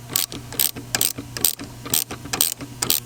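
Repeated rapid clicking of a ratchet wrench tightening the shock nut on a Bilstein B16 coilover for a Nissan 350Z, in close, loud bursts of a steady rhythm with no talk.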